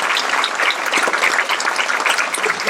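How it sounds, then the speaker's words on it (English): An audience applauds at a centennial remembrance event for the 1919 storm, dense steady clapping filling the room without pause for the whole stretch. "Let's give a round of applause"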